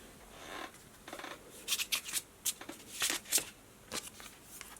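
Tarot cards are shuffled and drawn close up in a quiet room, a run of quick papery riffles and flicks in short uneven bursts.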